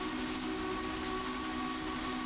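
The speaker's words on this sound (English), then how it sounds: "Blowing the whistle for the crossing here," A steam locomotive whistle blowing for a level crossing in a railroad video game, one steady, loud, sustained tone over the engine's rumble, no talking.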